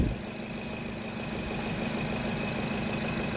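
Nissan Cube engine idling close by with a steady, continuous hum and a slight rhythmic pulse, alone with no voices.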